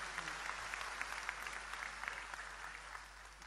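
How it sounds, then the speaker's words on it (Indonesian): Steady, fairly faint applause from a religious study gathering audience, a dense wash of many hands clapping continuously without pause and no talking over it. "Tepuk tangan untuk beliau, enggak apa-apa."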